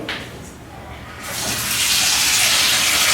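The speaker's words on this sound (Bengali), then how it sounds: "এটার মধ্যে জল দিয়ে দে" Water pours and gushes into a pot of lentils (dal) in a home kitchen, starting softly, then swelling into a steady, loud rush that continues to the end.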